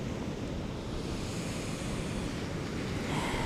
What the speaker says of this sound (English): Maybe you can hear the ocean waves in the background.